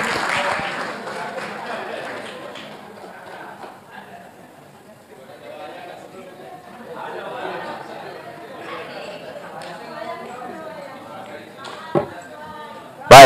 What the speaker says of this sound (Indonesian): kita berikan tepuk tangan yang meriah untuk Bapak Roy Suryo